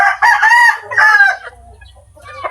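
A stag rooster crows loudly and close by, one full call with a strained, wavering tail, followed by quieter clucking and low farmyard rumble.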